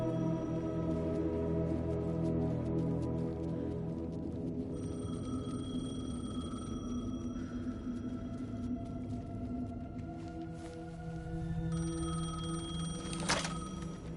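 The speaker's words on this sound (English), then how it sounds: "The payphone was ringing." A payphone rings in the video game Alan Wake II, repeated tonal rings over a dense, low ambient drone, fairly quiet throughout with a brief sharp knock near the end.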